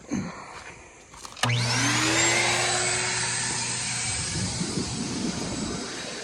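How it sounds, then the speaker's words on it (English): A blower forces air through the lines of an in-ground swimming pool during winterizing. It starts abruptly with a rising whine and settles into a loud, sustained roar with a steady tonal hum, heard close up with no talking. "we'll plug 2 of them and we'll blow, let one blow, move down, plug that one, and go around the pool that way"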